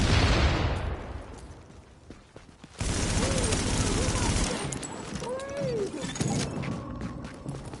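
Gunfire in The Division during a shootout, a dense burst of shots opening the scene, then a sustained clattering volley joined by electronic tones and chirps, with a player talking over it.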